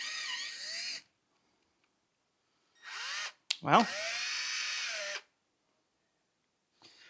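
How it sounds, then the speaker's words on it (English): A power drill tapping threads into a hole whirs in short bursts, pausing between runs, with its pitch dipping briefly as it bites; a voice speaks a word near the end. "you can tap holes by hand, or you can even use a drill"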